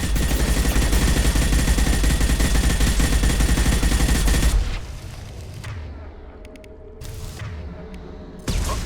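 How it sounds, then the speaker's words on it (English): Dense, continuous heavy gunfire from an impact shot in Mass Effect 2 stops after about four seconds. Quieter scattered mechanical sounds and a final thump follow. "Firing an impact shot."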